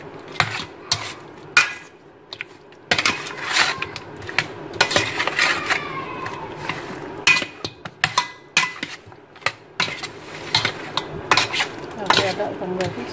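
Marinated pork ribs are tossed and stirred in a pan, with frequent metallic clinks and scrapes of a utensil against the cookware, busy and close throughout.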